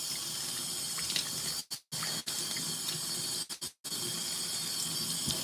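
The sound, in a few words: water rinsing washing machine part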